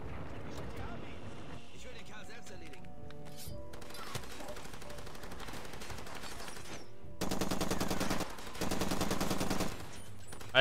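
Automatic weapon fire in the video game Far Cry 2, heard as bursts of rapid shots. A louder, denser stretch comes near the end. Game sounds and someone talking run through it.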